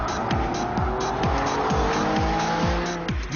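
Porsche 911 Carrera 4S driven hard with tires squealing, repeated sweeping engine revs and gear changes under steady tire screech, loud and close throughout with no talk.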